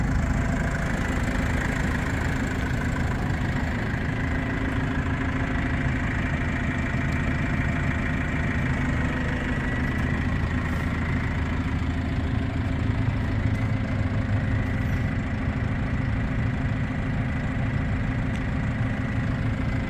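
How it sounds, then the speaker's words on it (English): A 2022 Hangcha FD50 forklift, a 10,000 lb truck with a Tier 4 Cummins diesel engine, idles steadily for about twenty seconds, a close, constant low rumble and hum with no voices. "That's running the Cummins diesel."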